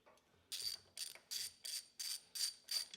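A ratchet clicks in quick repeated bursts while backing bolts out of a Honda CB450 motorcycle engine, about seven crisp metallic ratcheting strokes in a steady rhythm, close up with no talking.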